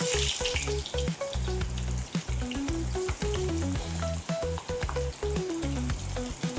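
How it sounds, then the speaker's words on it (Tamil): A crispy snack deep-fries in hot oil over a medium flame. A steady crackling sizzle runs throughout, partly buried under loud melodic background music. "எண்ணெய் சூடாயிடுச்சு. அப்படியே கொஞ்சம் கொஞ்சமாக போட்டு எடுத்துக்குவோம்."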